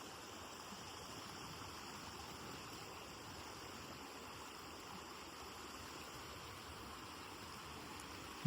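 Water flowing in a stream below a dam, splitting into two channels among green hills at a spot used for washing clothes, makes a faint, steady rushing wash with no break.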